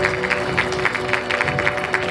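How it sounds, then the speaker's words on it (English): Applause from an audience at a school investiture ceremony for the student cabinet, a continuous, moderately loud patter of many hands with a faint steady hum underneath and no talk. "let's give them a huge round of applause"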